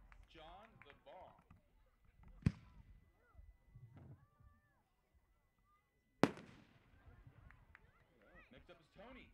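Aerial firework shells called jellyfish shells go off outdoors at an amateur fireworks event: two sharp, loud bangs about four seconds apart, each with a crackling tail. Voices and crowd chatter fill the gaps between them.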